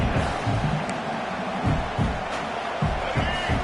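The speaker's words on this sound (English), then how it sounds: "This crowd, full throat, spreading the eardrums" A full stadium crowd at a UCLA football game roars continuously and loudly, a dense, steady wall of voices with a commentator talking over it.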